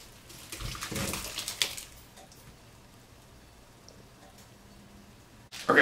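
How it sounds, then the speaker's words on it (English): Black walnut mixture poured and filtered through cheesecloth, a close splashing, trickling pour for the first couple of seconds, then quiet dripping, ending in a brief louder rustle. "I'm gonna try to filter this through some cheesecloth and separate the solids from the liquid"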